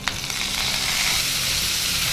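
Curry leaves sizzle in hot oil for tempering a curry leaf chutney, a loud, steady, continuous crackling hiss throughout with no voices.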